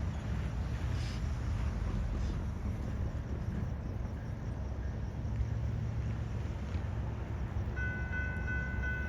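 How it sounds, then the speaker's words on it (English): Westbound Amtrak Sunset Limited passenger train led by heritage locomotive No. 160 in Pepsi Cola colors, a steady low rumble of rolling cars and engine with a brief horn-like tone near the end, continuous and fairly close. "We all gonna catch the Pepsi Cola colored locomotive headed this way."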